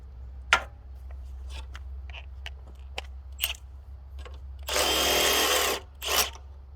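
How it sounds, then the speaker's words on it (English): Power tool with a socket removing a part on a Honda CT70 motorcycle, a few short clicks and knocks, then a loud buzzing whirr lasting about a second, followed by a brief shorter burst, close and otherwise quiet. "I'm actually going to grab a socket and zap that right off."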